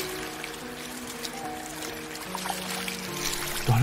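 Waves wash against a breakwater at night in Fukui, Japan, a soft continuous sloshing and trickling of water with a low tonal hum beneath and a louder splash right at the end.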